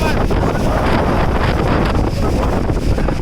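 Loud gusting wind from Cyclone Yash batters the microphone in a continuous roaring rush, heavy and close, with no clear words audible.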